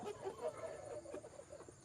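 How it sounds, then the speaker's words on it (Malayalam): A rooster and two native hens in a coop give soft, faint clucks and murmurs, several short calls spread across the moment. "അപ്പുറത്തെ കൂടിലാണെങ്കിൽ പൂങ്കോഴിയും രണ്ട് നാടൻ കോഴിയും കിടപ്പുണ്ട്"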